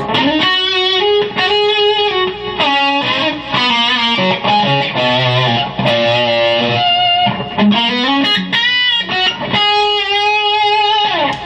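Electric guitar lead tone with a thick gain setting and added delay, sustained melodic notes with echo trails, playing continuously and loud with no talking.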